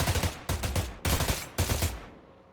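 Bursts of SMG fire from a Fortnite weapon, four rapid rattling volleys in quick succession, loud and close, with no talk over them.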